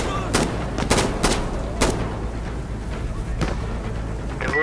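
Machine-gun and rifle fire in the game Insurgency: Sandstorm crackles in loud, sharp bursts, several close shots clustered early and then sparser reports.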